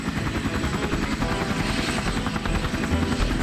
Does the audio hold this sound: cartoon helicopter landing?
yes